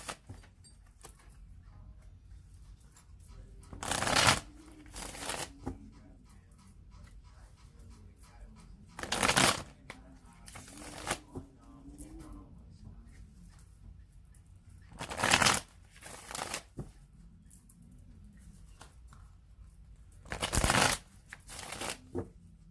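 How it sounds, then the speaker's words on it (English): Five separate bursts of card shuffling, each a short riffling whoosh, spaced a few seconds apart against a quiet background with faint low murmuring between them. "I'm going to shuffle it three more times"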